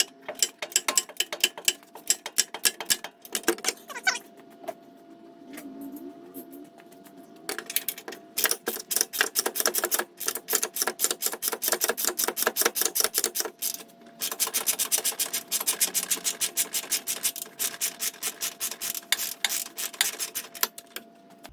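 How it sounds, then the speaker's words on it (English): A large ratchet with a 24mm socket works a suspension link bolt on a Bronco, its pawl clicking in rapid, steady bursts with short pauses between strokes, close and fairly loud. "So I'm using my biggest ratchet for the most leverage, a 24mm socket."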